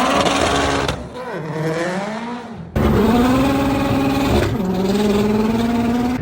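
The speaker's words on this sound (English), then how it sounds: "Launched it, spun all through first, hit second, literally spun all through second gear." Car launching hard with tires spinning all through first and into second gear, the engine revving up in rising loud sweeps with a brief gearshift dip, recorded close by.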